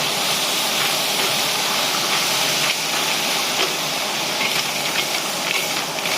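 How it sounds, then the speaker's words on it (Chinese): River snails stir-fried in a wok with meat, Guangxi style, giving a steady loud hiss and sizzle with faint scraping throughout and no voices. "这时候呢，也是继续翻炒。"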